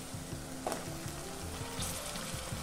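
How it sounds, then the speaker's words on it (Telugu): Potato pieces and green peas hit hot oil in a pan for an aloo matar mutton keema, giving a steady close sizzle with a brief sharper burst as they land, no voices. "ఇప్పుడు ఇందులోకి ఆలుగడ్డ ముక్కలు అలాగే పచ్చి బఠానీలు వేసుకోవాలి।"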